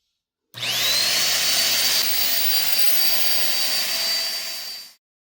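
A lightweight vacuum cleaner whirs steadily on a plush, squishy rug, starting abruptly, holding a loud high-pitched motor whine with airflow hiss, then cutting off after about four seconds.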